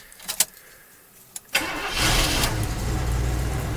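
A 1972 Camaro barn find, parked for 19 years, cranks briefly after a couple of clicks, then fires up cold and settles into a loud, steady rough idle, close by with no talking.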